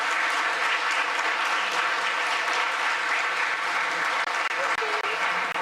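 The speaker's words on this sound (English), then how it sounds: "let's give a big round of applause for Caelan and Ivy" Wedding guests applauding the newly solemnised couple, dense continuous clapping from a sizeable crowd filling the room at steady loudness, with voices faintly mixed in underneath.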